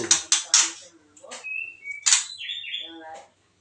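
Bright, sharp chirps from a young, sick oriental magpie-robin in quick bursts, with a few whistled notes between, close by and fairly loud.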